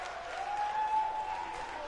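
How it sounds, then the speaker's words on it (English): A crowd at a professional wrestling show applauds in a steady, moderately loud wash of clapping that carries on throughout, with a faint tonal hum running underneath. "Crowd applauding this one."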